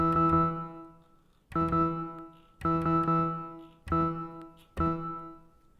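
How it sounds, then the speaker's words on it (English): Five plucky OB-6 synthesizer chords with reverb strike at roughly even intervals, each decaying into a lingering reverberant tail. "Turn on some reverb there."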